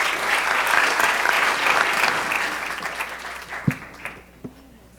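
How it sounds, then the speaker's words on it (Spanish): A seminar audience at a regional training event applauds, the dense clapping fading out over a few seconds into scattered final claps and quiet room noise. "Un aplauso para ellos."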